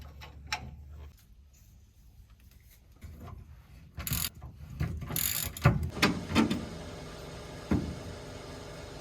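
A 21mm wrench ratcheting on a truck while Torklift tie-downs are being fitted for a camper, giving bursts of clicking and mechanical clatter that grow busier and louder in the second half, with no talk.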